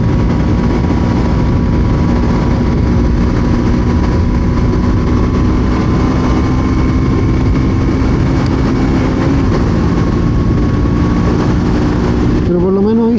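A KTM Duke 200 motorcycle engine drones steadily at cruising speed with heavy wind rush, a voice talking over it, the pitch shifting near the end.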